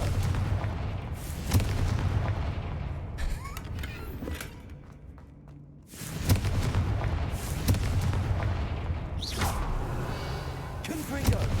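Booming fire-blast spell explosions in Hogwarts Legacy burst loudly in two or three heavy waves, with a rumbling tail and a quieter pause between them, while a voice casts spells.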